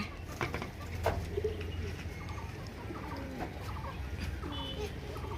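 Chickens and pigeons gather at their feed, with repeated clucks and coos and several overlapping bird calls close by against steady low background noise.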